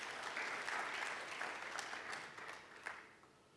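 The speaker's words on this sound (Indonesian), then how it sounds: "Berikan tepuk tangan bagi Tuhan kita." A church congregation claps during a Christmas celebration service, a soft, even wash of applause that tapers off slightly as it goes, with no talking over it.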